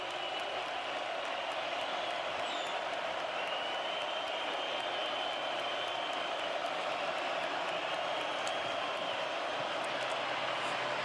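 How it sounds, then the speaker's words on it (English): Stadium crowd at a Michigan vs Indiana college football game at Memorial Stadium, a steady, dense roar of many voices filling the space, with scattered claps and whoops rising out of it throughout. "The crowd getting louder by the minute as darkness falls over Memorial Stadium."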